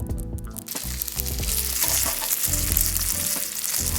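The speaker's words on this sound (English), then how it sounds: "Fill up oil and pan fry." Korean round pancakes (donggeurang) pan-frying in plenty of oil, a steady close sizzle that runs the whole time, with faint utensil clinks and low background music underneath.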